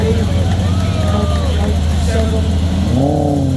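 A Porsche 993 rolls past at a 1000 Miglia classic car event in Dubai, its low engine drone steady and close beneath a babble of crowd chatter and nearby voices.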